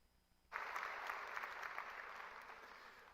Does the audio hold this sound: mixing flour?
no